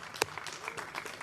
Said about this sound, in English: So let's give an applause again to our financial team.